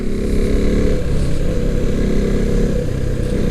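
A motorcycle engine drones steadily throughout, loud and close like onboard riding, with continuous low rumble and wind noise and no talking.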